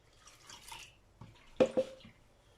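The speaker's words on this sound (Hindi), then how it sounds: "अब हम इसके अंदर डालेंगे 1 लीटर पानी" Water goes into a bowl of gram flour whisked with yogurt for kadhi. It sounds as faint, scattered drips followed by two brief, slightly louder splashes in a quiet kitchen.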